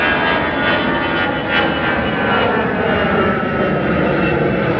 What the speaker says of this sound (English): EasyJet flight going out there.